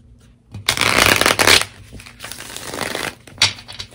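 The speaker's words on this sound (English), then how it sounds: "Okay, so let's pull your tarot cards." Tarot cards being shuffled up close, a dense papery riffling and rustling in two long bursts with a shorter flurry near the end, loud and alone with no talk.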